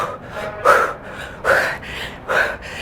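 Quick, forceful breaths during a low-impact cardio workout, three sharp rhythmic exhalations about a second apart, close and loud with no speech.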